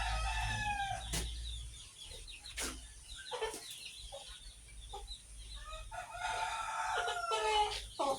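Village chickens cluck throughout, and a rooster crows several times, clear and fairly close, with short calls scattered between over a low steady background hum.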